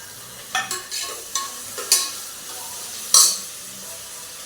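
Onions with green chillies, curry leaves and mint frying in a pan, a soft sizzle broken by repeated scraping stirs and a few sharp metallic clinks, close and without talk.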